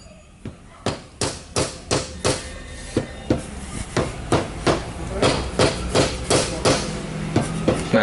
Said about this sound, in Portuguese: Vamos dar aquela batidinha com a marreta de borracha para não, para descolar a junta.